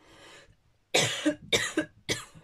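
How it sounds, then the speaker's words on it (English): Three sharp coughs in quick succession, close by and loud, following a moment of softer breathy noise. "Little cough, sorry about that."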